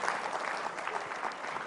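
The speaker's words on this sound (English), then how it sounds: "Clap, man." An audience at a leadership talk breaks into steady applause, a continuous fairly soft patter of many hands sustained throughout with no voices standing out.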